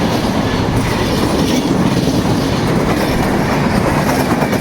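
A train rumbles past close by through Kanaibazar railway station, loud and continuous, wheels clattering rhythmically on the rails with a heavy low roar throughout.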